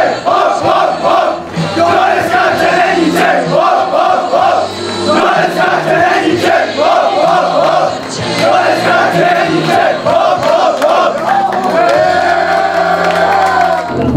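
Loud, continuous crowd noise at an outdoor youth football tournament prize ceremony, with cheering, shouting and clapping that swells and dips across the whole stretch.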